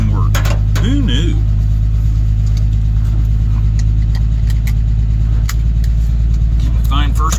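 A 1974 Dodge wagon's engine running steadily just after starting, a loud, close, continuous low rumble at idle throughout, with someone talking briefly over it.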